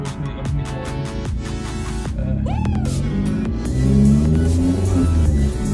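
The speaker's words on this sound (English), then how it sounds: "so you can hear the exhaust music of me driving" A car fitted with a new Cobra sports exhaust accelerates on a country lane, its engine note rising through revs with a gear change partway through, loud and close throughout.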